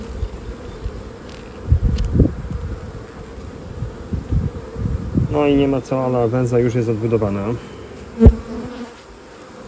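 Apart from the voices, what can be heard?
honey bees buzzing in open hive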